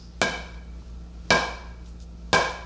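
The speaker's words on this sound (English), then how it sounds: "When you hit a baseball, you want to hit it right on the sweet spot." Three solid, sharp cracks of a baseball bat struck on the sweet spot, spaced about a second apart, each loud and close with a short ringing decay over quiet background.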